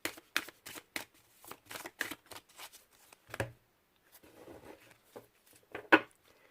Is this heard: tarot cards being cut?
yes